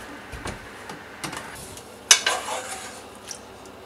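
Cooked tortiglioni pasta is tipped into a tray in a restaurant kitchen, giving faint soft scrapes and clinks, with one sharper metallic knock partway through.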